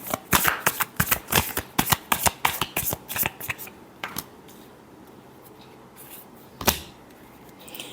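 Tarot cards riffled and shuffled by hand in a quick run of crisp, rhythmic bursts close up, slowing to a single final flick after a pause.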